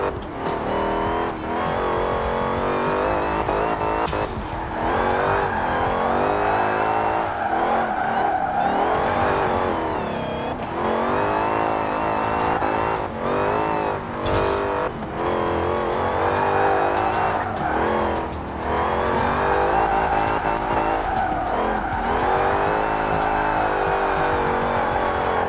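A Dodge Charger R/T engine in Forza Horizon 4 revs hard and continuously, its loud, close engine note rising and falling through the gears with occasional tire squeal.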